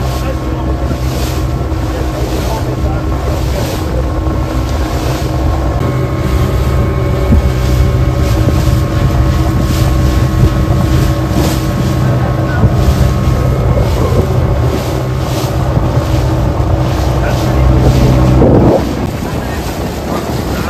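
A motorboat cruises at sea off Wasini Island, Kenya, its engine droning steadily under heavy wind buffeting, until the motor note drops off sharply near the end.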